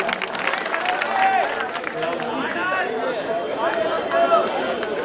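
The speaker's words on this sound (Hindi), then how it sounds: "उसको तालियों से इस्तेकबाल कीजिए आप" Audience at an evening poetry gathering breaks into applause for a poet, a steady wash of clapping and crowd noise mixed with chatter and a speaking voice.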